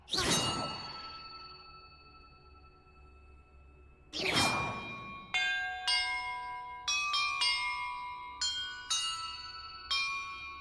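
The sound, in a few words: bells ringing in Hogwarts Legacy video game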